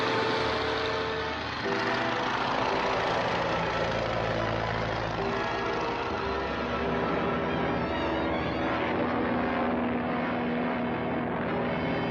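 A propeller airplane engine effect in an old radio adventure serial drones steadily and fairly loud throughout, with its pitch slowly wavering and no talk over it.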